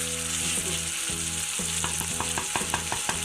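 Beef boti cubes frying with black pepper and green chili for a beef masala boti, a steady close sizzle with soft clinks of stirring through the pan, no voices.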